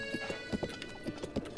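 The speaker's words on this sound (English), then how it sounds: "Look at this horse trot." Horse hooves trotting in Zelda Breath of the Wild, a quick regular clip-clop of footfalls, fairly faint, with game music tones held underneath.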